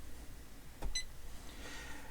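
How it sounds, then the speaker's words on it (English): A single short electronic beep from a Janome 550E embroidery machine, faint and brief against a quiet room. "you'll hear the beep."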